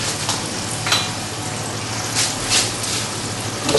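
Hot oil sizzling and spitting around roasting potatoes in a tipped roasting tray as they are basted, with a steady frying hiss and a few soft clinks of a spoon, close and fairly loud.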